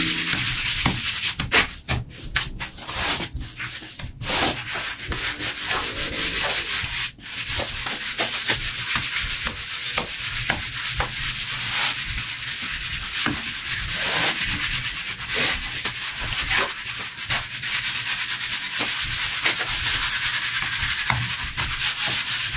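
A trowel rubs and smooths fresh plaster on the corners of a house wall, a continuous close scraping and rasping texture with brief irregular knocks, steady throughout and without speech.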